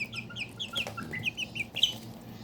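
A three-month-old Serama rooster, the world's smallest chicken breed, gives a run of soft, quick clucks and chirpy calls, close and fairly quiet over low background hum.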